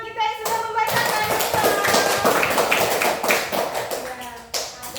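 Children in a classroom clap together for a classmate who has just finished reading aloud, a dense burst of hand claps lasting several seconds before tapering off, with a few young voices mixed in.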